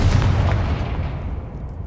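A Confringo fire spell exploding in the game Hogwarts Legacy, a single deep booming blast that hits hard at once and rumbles away over about two seconds.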